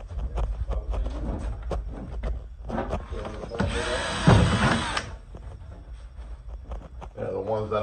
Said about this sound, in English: Drilling for our marks.